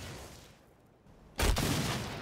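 Power cores exploding in the Halo 5 video game: a hush, then one sudden loud blast at about the midpoint that rolls on into sustained rumbling, crackling destruction.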